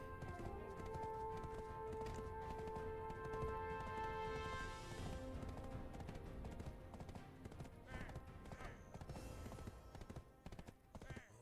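Horse hooves clip-clopping at a steady gallop in the video game Black Desert, running continuously under game music and ambient effects, with an occasional whinny.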